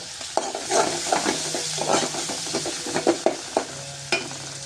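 Ginger and cumin paste frying in a pan for an aloo dal, with steady sizzling and repeated stirring scrapes in close, uneven bursts, no voices.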